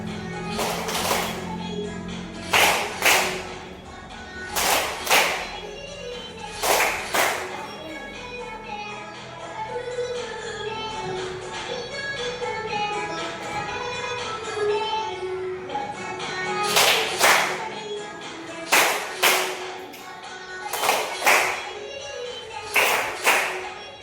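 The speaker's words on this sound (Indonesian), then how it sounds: "Ya, tepuk tangan." Classroom of children clapping hands in rhythmic bursts during a morning ice-breaking activity, sharp claps repeating in groups with pauses between, loud and close, with a teacher's voice speaking in the gaps.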